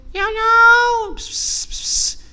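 A cat gives one long, clear meow close by, followed by a breathy hiss-like exhalation broken into two parts.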